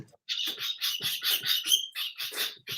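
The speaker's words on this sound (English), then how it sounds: "The bird's screaming at me." A bird screams in a rapid series of harsh, shrill squawks and chirps, loud and close, with short breaks between bursts.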